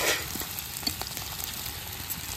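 A pan of potatoes sizzles and fries steadily while turmeric, salt and chili are added, with a brief rustle near the start and a constant close hiss throughout.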